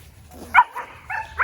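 Dogs let out short, close barks and yips in quick bursts, sounding excited and scrappy.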